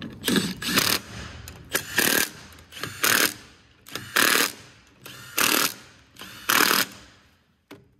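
A 3/8 inch impact gun working bolts during maintenance on a Doosan DX350LC-7 excavator, six loud close bursts of rattling hammering at roughly one-second intervals with quieter gaps between.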